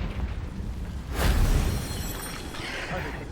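Confringo explosive spell cast in the video game Hogwarts Legacy, a single loud burst with a whooshing blast amid ongoing game noise, followed by a rumbling tail.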